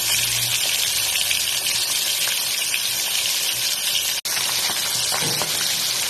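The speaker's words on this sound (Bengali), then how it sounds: "কড়ার মধ্যে সর্ষের তেল দিয়ে দিয়েছি, তেল গরম হয়ে যাচ্ছে। এবার মাছগুলোকে খুব সুন্দরভাবে ভেজে নেব।" Pomfret fish frying in hot mustard oil in a kadai over medium-high flame, a loud, steady hiss and crackle of sizzling oil running continuously with only a brief dip.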